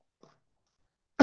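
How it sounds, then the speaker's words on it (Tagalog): A preacher coughs during a sermon: one brief, loud, close burst at the end, preceded by a faint short throat sound and otherwise near silence. "Meron pa akong konting ubo eh."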